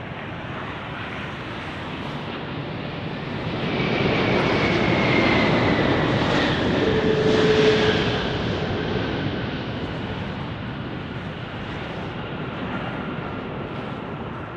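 A heavy jet passes at Las Vegas airport in a strong crosswind, its loud engine roar rising to a peak with a whining tone, then slowly fading as it moves away.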